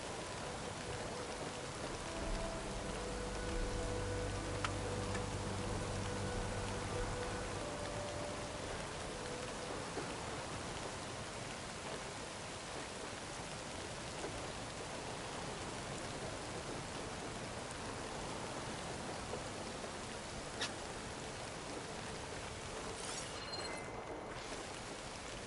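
Heavy rain falls continuously as a dense, even roar of broadband hiss that fills the whole stretch at steady loudness, with a faint low rumble early on.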